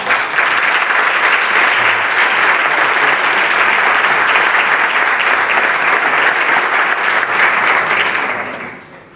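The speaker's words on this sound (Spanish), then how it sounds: "Vamos a darle un fuerte aplauso." An audience at a mystery-themed talk event in Bormujos bursts into loud, dense, sustained applause that fills the room, then fades out toward the end.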